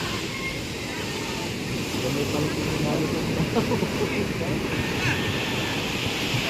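Ocean waves surge in a continuous, fairly loud roar of rushing water and wind, building slightly and staying steady throughout.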